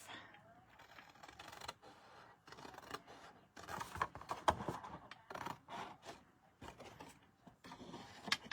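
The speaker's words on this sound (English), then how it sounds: "Now I'm going to cut the other X off" Scissors snip through card paper in a series of short, crisp cuts and paper rustles, close and fairly quiet, with irregular pauses between cuts and some soft speech in the gaps.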